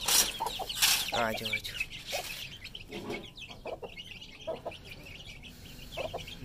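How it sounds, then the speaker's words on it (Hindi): Hens and small chicks cluck and peep nearby in a farmyard coop, a busy mix of clucks and high chirps, while a man calls to them. "और ये देखें जी, चूजे छोटे।"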